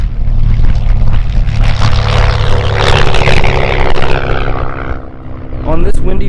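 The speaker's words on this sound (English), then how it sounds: "my cameras could capture the sound of the propeller and engine in such a way that it gives me goosebumps" A propeller airplane's engine roars loudly and close at takeoff on a windy day, a dense, sustained drone with a whirring propeller tone that rises in intensity and then briefly eases near the end.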